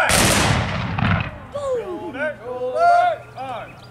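A rifle volley fired by reenactors at a military history event in Gordonsville, Virginia: one loud, near crack that blasts out at once and then fades, followed by a commander's shouted orders over a murmuring crowd.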